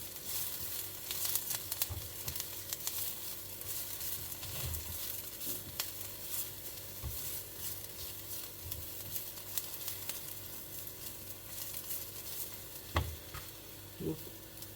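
Three dried red chillies sautéing in hot oil, a low steady sizzle with scattered soft pops and an occasional light scrape of a spoon, close and unhurried.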